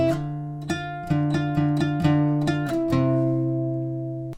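Guitar riff on guitar, a run of clear picked notes and slides ending on a low ringing bass note that sustains and fades, close and clean.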